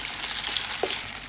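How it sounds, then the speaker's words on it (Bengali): Chicken noodle lollipops dipped in cornflour sizzle steadily in hot oil, a close, continuous frying hiss with a brief bubbling burst near the end. "এরকম কর্নফ্লাওয়ারে চুবিয়ে তেলে দিবে, আর এগুলো আলতো হাতে লাগতে হবে।"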